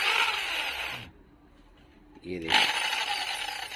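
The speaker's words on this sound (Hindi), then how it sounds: "पावरफुल ड्रिल मशीन है ना" Powerful variable-speed drill machine spinning a putty and paint mixer, a loud steady whir that stops for about a second and a half and then starts again, with someone talking briefly over it.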